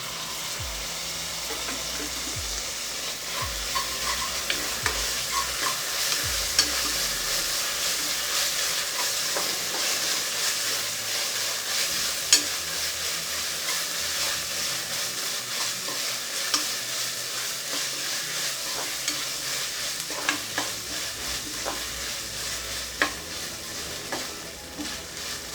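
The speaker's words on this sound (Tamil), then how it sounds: "இப்போ இஞ்சி பூண்டு விழுது சேர்த்துடலாம்." Ginger garlic paste sizzles and fries in a pan with onions for a coconut milk peas pulao, a steady close hiss running throughout with occasional scrapes and taps of stirring.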